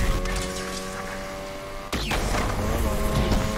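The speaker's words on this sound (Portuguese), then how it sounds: "Ronco da Rotary, meu parceiro. Motor rotativo tá bonito" A Mazda RX-7 rotary engine in the racing game Need for Speed Unbound roars loud and steady, with a sharp shift or backfire crack midway before the engine keeps droning.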